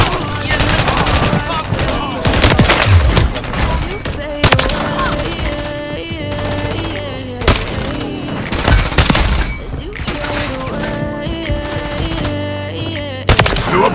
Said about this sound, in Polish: Strzelają do mnie!